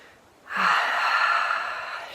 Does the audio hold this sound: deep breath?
yes